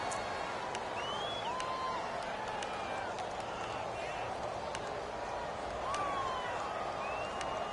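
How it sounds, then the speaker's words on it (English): Stadium crowd noise in a football video game, a steady roar of cheering fans under a live broadcast as a big third down approaches, with occasional whistle-like tones on top. "the crowd getting into it as we come up on a big 3rd down"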